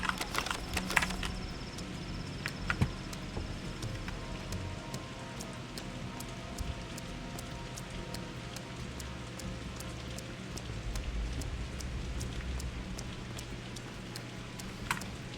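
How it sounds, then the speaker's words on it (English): Steady rain in the video game Pathologic 2 patters throughout, a dense, even hiss with occasional sharper drops and faint clicks, no voices. "It's been a while since it's rained in this game,"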